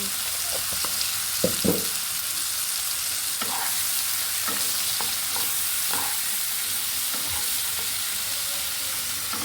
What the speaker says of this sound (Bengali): এইগুলোকে দিয়েও আমি দু তিন মিনিট ভালো করে ভেজে নেবো